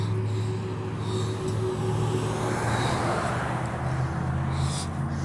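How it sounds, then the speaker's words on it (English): Loud road traffic with a white truck rumbling past, steady low engine drone and broadband tire roar holding throughout, a vehicle swelling closer mid-clip on an outdoor street walk. "It's a noise campaign with the loud vehicles. And that truck has funny tail lights too, that loud ass white truck down there."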